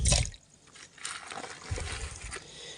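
Freshly trapped catch being washed in water before cooking: irregular close splashes, sloshing and trickling with short pauses between, and a sharp knock at the end.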